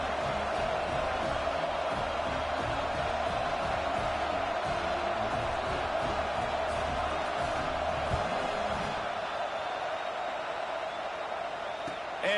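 Football stadium crowd in a college football video game, a steady dense roar of distant crowd noise held throughout at an even level, with no clear cheers or peaks standing out.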